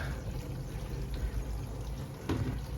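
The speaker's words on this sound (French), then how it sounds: "on voit que l'eau arrive là et s'écoule dans le bas de la cuve" Water pouring and splashing into a van's water tank, flowing down to the bottom of the tank in a steady close gush with a brief louder splash near the end.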